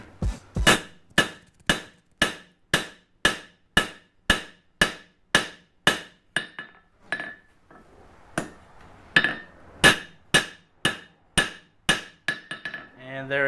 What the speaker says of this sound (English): I'm going to smash in the transition, the plunge line first.